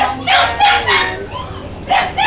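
Several sharp dog barks and yips come in quick bursts, close by, with short gaps between them.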